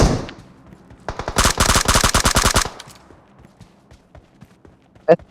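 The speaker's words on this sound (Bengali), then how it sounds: "ওরা আমার ফায়ার করছে এর লিগে আমি ওরে ফায়ার করে দিই" Gunfire in the battle royale game PUBG: a sustained burst of rapid automatic shots lasting about a second and a half, followed by scattered fainter shots and one sharp crack near the end, loud and close with no talking.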